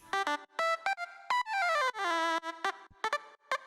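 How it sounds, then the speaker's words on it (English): Tech house synth lead with bright, buzzy harmonic tones in short staccato stabs and a longer pitch-gliding note, played alone, close and clean. "The lead sounds like this."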